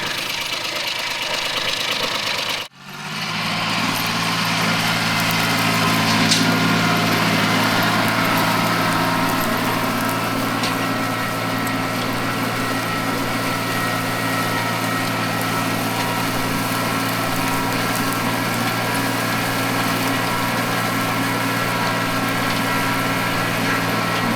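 The freshly overhauled engine of a Mitsubishi MT200 Japanese mini tractor idles steadily with a low, even hum and slight knocking, after a brief dip early on; it runs continuously throughout.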